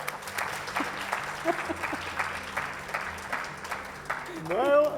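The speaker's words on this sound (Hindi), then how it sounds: "तालियां बजाओ यार।" An audience at a televised talk show about PM Modi claps in a moderate, even burst under a low hum, with a voice briefly speaking over it at the end.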